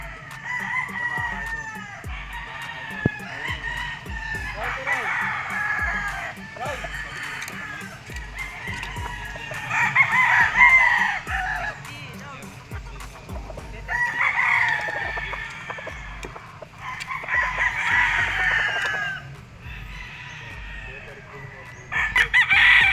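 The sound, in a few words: roosters crowing at gamefarm, Boston Black gamefowl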